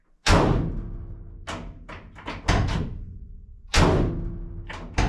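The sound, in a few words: van passenger door shut without sound deadening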